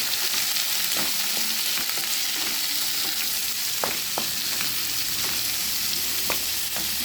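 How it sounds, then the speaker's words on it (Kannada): Onion and tomato fry in a pan for bondas sukka, giving a steady, close sizzle broken by scattered stirring scrapes and clicks, with no one talking. "ಇದನ್ನು ಫ್ರೈ ಮಾಡಬೇಕು ಈಗ ಈರುಳ್ಳಿ ಟೊಮೆಟೊನ್ನು ಎರಡನ್ನು ನಾನು ಇದಕ್ಕೆ ಹಾಕ್ತಾಯಿದ್ದೀನಿ"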